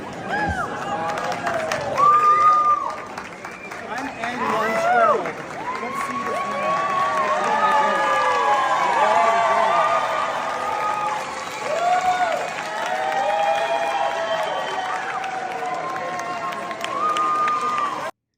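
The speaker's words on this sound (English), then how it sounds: "drag queens showed up to the Kennedy Center and were met with applause from the crowd" Large indoor crowd at the Kennedy Center applauding and cheering as drag queens arrive, sustained clapping and shouting with voices rising and falling across the room.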